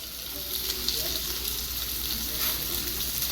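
Fish pieces frying in oil in a pan, giving a soft, steady close sizzle with light crackles throughout.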